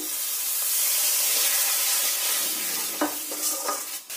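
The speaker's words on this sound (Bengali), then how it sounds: "মশলা যাতে পুড়ে না যায় এতে দিয়ে দেবো অল্প করে জল" Sizzling spice paste frying in a pan as a splash of water goes in, with a steady hiss and brief bursts of stirring and spatter toward the end.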